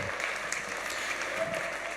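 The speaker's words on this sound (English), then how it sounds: "Give Joe a big round of applause." Steady applause from a conference audience at a Bitcoin policy forum in Lugano, clapping for the MC, a dense, even wash of hands throughout with no voices standing out.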